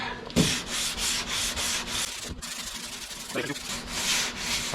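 A sanding block with 180-grit paper rasps over a putty spot on a Dodge car door in quick, even back-and-forth strokes, about two per second, close and clear with no talking.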